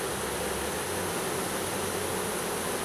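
A huge honey bee swarm fans at the front of a hive outdoors, producing a thick, unbroken buzzing drone that stays close and constant throughout, with no voices.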